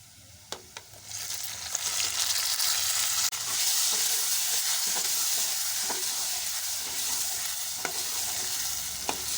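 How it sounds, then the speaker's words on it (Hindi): Steady loud sizzling of onion and tomato frying in a hot pan, with a few sharp clinks of a spoon at the start and occasional stirring taps. "इन्हें हम अच्छी तरह भून लेंगे।"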